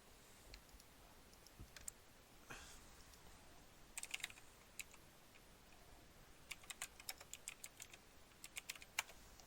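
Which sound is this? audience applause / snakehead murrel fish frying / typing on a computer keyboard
typing on a computer keyboard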